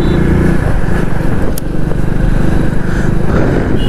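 Loud, continuous drone of a 100cc motorcycle engine while riding, with heavy wind rumble and a steady engine note throughout, recorded close on the bike.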